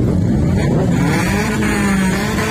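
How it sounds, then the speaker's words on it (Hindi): Loud motorcycles roar together at a crowded car show in Gujranwala. A dense, constant engine rumble with revving fills the whole stretch. "यहाँ पे बाइक्स का शोर बहुत ज़्यादा है"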